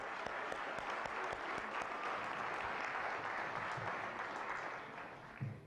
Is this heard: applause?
yes